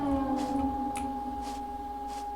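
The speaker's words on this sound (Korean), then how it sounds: "야, 사이렌 소리 난다." A steady wailing siren in a Siren Head horror video game holds a sustained tone throughout, fairly faint and distant, with a few brief noisy bursts over it.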